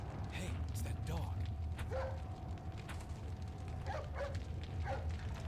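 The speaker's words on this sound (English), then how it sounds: "Hey, it's that dog." A dog in the video game Resident Evil 4 gives a few short barks and yips amid creaking, ratcheting game mechanisms and a low rumbling background, faint and intermittent, with some speech nearby.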